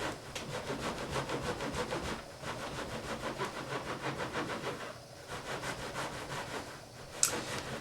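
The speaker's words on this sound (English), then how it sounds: "I usually flatten out the bottom and then I rub it like this" Hands rub wool felt during felting, making soft, rhythmic scrubbing strokes at a quick, even pace, close and fairly quiet, with a brief thump near the end.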